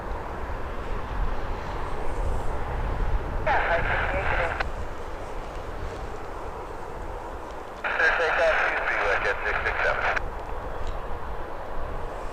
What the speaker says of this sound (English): Up next we got WestJet 667. Boeing 737-700 headed to Calgary. Lining up here, runway